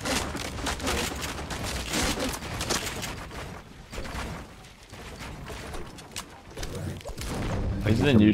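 Shotgun fire in the game Fortnite, a series of loud close blasts and clattering impacts packed into a few seconds, mixed with game effects and people talking.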